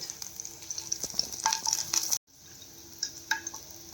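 Mini mushrooms fry and sizzle in a pan, with a steady hiss broken by scraping stirs and a brief dropout partway through, no talking.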